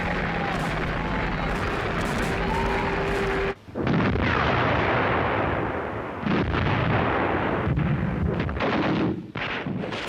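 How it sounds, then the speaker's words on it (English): WWII Eastern Front battle footage of Soviet artillery barrages in 1943, a dense, continuous roar of booming gunfire and blasts, loud and close with a brief drop near the middle, no talking. "Huge Soviet artillery barrages and tank assaults were shredding the German lines."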